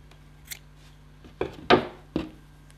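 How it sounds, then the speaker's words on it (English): Scissors snipping crochet yarn on a summer hat, a few short crisp snips close by, the last two strongest, with quiet pauses between. "now we can cut the yarn."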